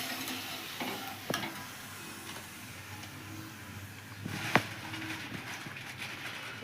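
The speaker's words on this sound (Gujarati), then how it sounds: "આપણે દહીં પણ તળી લેવી સરસ" Papad frying in hot oil gives a low, steady sizzle with a couple of sharp clicks and taps from utensils against the pan, heard close and alone.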